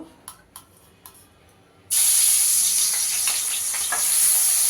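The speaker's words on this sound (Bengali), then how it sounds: "এবার চিংড়ি মাছটাকে ভেজে নেব।" Prawns drop into hot mustard oil after a few soft knocks, then a loud, sustained sizzle and spitting fry noise fills the rest, close and continuous.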